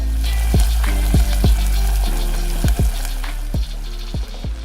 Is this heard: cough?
no